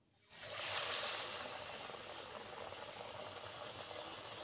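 Tok chop dipped in gram flour batter and lowered into hot oil, a sudden bubbling hiss that surges in and then settles into a steady, quiet frying sizzle.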